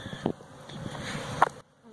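Buckfast honey bees swarm and hum around a 20-frame hive, a steady close-up buzz that runs for about a second and a half and then cuts off abruptly.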